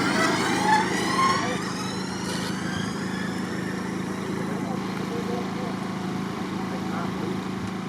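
A Zero electric motorcycle, almost five years old, makes a quarter-mile drag run with a rising whine over steady wind and track noise.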